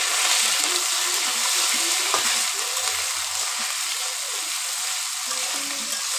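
Fish and onions frying in mustard oil in a pan, a dense, continuous hiss of sizzling close up, with faint low knocks of stirring underneath.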